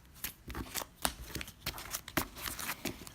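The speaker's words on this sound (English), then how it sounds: "Not very good shuffling with one hand" A deck of cards shuffled one-handed during board game setup, giving a run of quick papery riffles and clicks, close and fairly quiet, with no talking.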